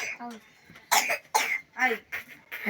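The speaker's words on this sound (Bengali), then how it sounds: "দেখো কি কাশি" A sick child coughs several times in short, harsh bursts, close by, while someone talks before and between the coughs.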